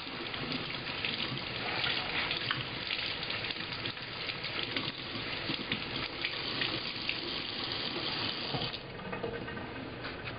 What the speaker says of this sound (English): I'm washing all the silicone glove off my hands